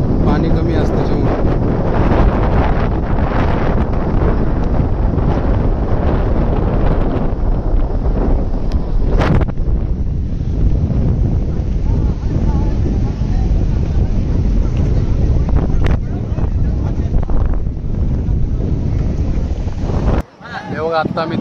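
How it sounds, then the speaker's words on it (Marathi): Strong wind blows across the Haji Ali seafront in Mumbai, loud continuous buffeting and rumble on the microphone for the whole stretch, with a sudden drop near the end. "इकडं हवा पण खूप जोरजोरात चालू आहे"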